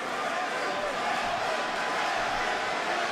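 A California arena crowd at a UFC flyweight title fight cheers in a steady, broad roar that holds constant throughout, with a commentator's voice faintly over it.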